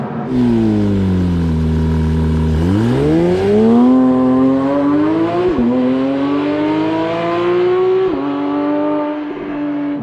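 A new Porsche 911 GT3 engine revs hard through several gear changes after a downshift of two or three gears, pitch dropping briefly then climbing steadily, loud and close throughout.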